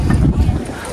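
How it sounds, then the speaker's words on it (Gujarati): Strong wind gusting on Girnar hill near Junagadh during the monsoon, a loud low rumbling buffet against the microphone lasting under a second. "પવન એટલો છે કે અમે ઉડ્યું જોઈએ"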